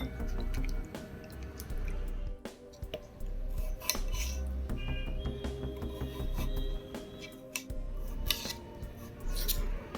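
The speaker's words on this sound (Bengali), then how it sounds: "আলুগুলোকে কেটে নেব ছোট ছোট টুকরো করে" Knife cutting potatoes into small pieces on a board in a home kitchen, with a busy run of close, irregular chopping clicks and scraping taps, some louder knocks, and no talk.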